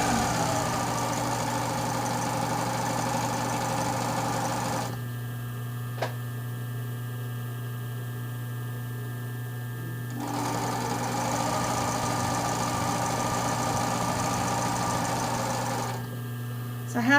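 A sewing machine stitches super-stretchy fabric for a tank top, running in a steady close whir for about five seconds, pausing, then starting up again, with faint background hum.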